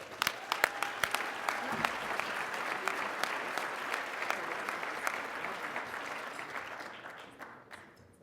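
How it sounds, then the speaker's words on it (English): Audience applause at a Rotary Club of Denver meeting, honoring mentors and parents in the room: a dense, steady wash of clapping that holds for several seconds, then thins and fades out. "let's just give them a round of applause anyway"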